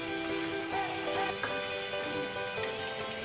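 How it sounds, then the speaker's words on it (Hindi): Black pepper, cloves and cinnamon pieces roast in a pan over high heat, giving a steady close sizzle and crackle with a few light clinks of stirring. "इसको हम तेज़ आंच पे भूनना है।"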